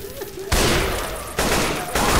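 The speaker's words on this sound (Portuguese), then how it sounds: "Descarreguei a arma." Left 4 Dead 2 co-op gunfire comes in loud, sustained bursts of rapid shots, three onsets with short gaps between them, close and dominating, over faint background game sound.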